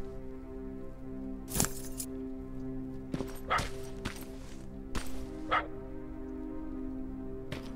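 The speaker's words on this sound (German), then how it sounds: "Hör doch mal auf zu bellen." In the video game Terminator Resistance, a dog barks in short, sharp bursts, about six of them spread unevenly over several seconds, over a steady low droning game background.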